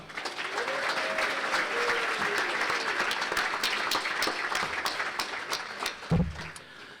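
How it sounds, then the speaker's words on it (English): An audience at a city State of the City event gives sustained applause, a dense wash of clapping from many hands that holds steady, then fades near the end, with a brief low thump. "Ladies and gentlemen, a round of applause for Mr. Art Brown."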